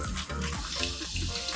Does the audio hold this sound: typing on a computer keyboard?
no